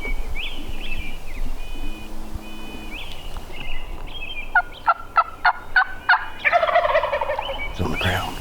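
A wild turkey gobbler in the Black Hills gobbles from a distance, a rapid rattling burst of clucks midway through, with other bird calls and soft outdoor ambience around it.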